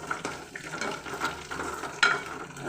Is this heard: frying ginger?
yes